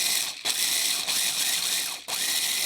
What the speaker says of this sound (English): I just want to grind those up.